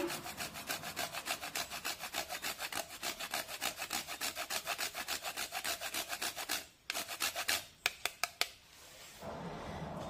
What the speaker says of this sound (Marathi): साधारण पाव चमचा जायफळ किसून टाकूया